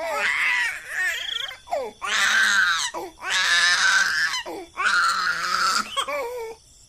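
A baby girl cries loudly in repeated wailing bursts, each lasting about a second, with short breathy gaps and sobbing catches between them, close up and clear.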